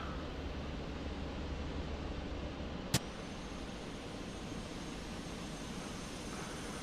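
A jet airliner coming in to land at Bristol Airport in Microsoft Flight Simulator 2024, a steady broad roar held at an even level throughout, with one sharp click partway through.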